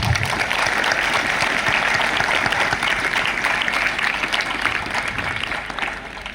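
A school audience at a Labour Day celebration applauds its support staff, loud sustained clapping from a crowd that tapers off slightly toward the end.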